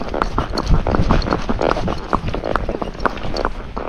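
Hooves of a Fox Trotter horse in a fox trot gait on a road, a steady, close, loud run of clip-clop footfalls in a quick, even rhythm.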